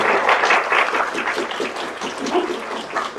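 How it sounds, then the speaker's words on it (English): A lecture audience applauds a PhD student, dense, steady clapping filling the room at full strength and continuing throughout without any speech. "I think you should all give her applause."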